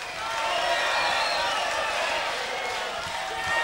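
A concert crowd of thousands applauding at an outdoor show in Misiones, Argentina: a broad, sustained wash of distant clapping and crowd noise that holds steady for a few seconds.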